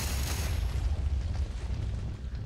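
Rumbling, booming blasts in FTB OceanBlock, a Minecraft modpack, as the Chaos Guardian fires at the player, heavy low explosions rolling continuously and loud for a couple of seconds.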